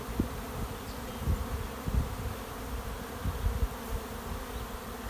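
A swarm of honey bees pours out of their hive, making a dense, continuous buzzing hum with a few louder passes of nearby bees, at moderate volume and without talk.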